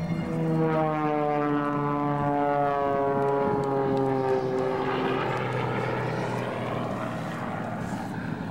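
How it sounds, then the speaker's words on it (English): A Canadian Forces Snowbirds jet makes a knife-edge pass at an airshow, a steady engine roar with a clear falling pitch sweep as it passes, heard from a distance without talk. "he's going to come back one more time for another knife edge pass"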